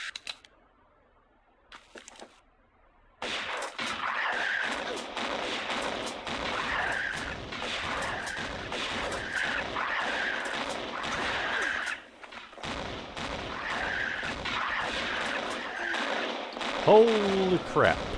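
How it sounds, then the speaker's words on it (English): Shotgun blasts from the MS-DOS Tomb Raider game ring out repeatedly in a steady series of loud bursts after a quiet opening, with brief gaps between shots. "shotgun, shotgun, shotgun"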